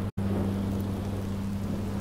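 Steady rain falling in the Minecraft Story Mode video game, a continuous even hiss with a low droning hum underneath and a brief dropout near the start, no voices.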